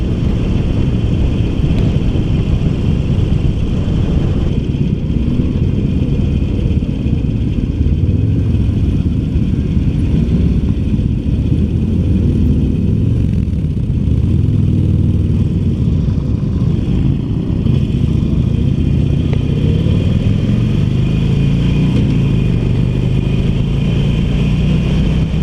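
2019 Harley-Davidson Iron 1200 being ridden, a loud continuous engine roar with rising and falling pitch as the rider revs and shifts, heavy low rumble and wind throughout, no talking.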